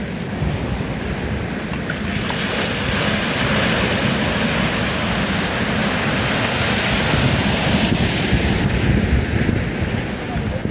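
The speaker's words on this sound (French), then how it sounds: "Regardez-moi les vagues qui arrivent là devant cette ville" Ocean waves rolling in toward a large seaside city, a continuous surging roar mixed with heavy wind buffeting the microphone, swelling gently over time with no clear break between individual waves.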